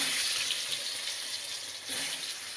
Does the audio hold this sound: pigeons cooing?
no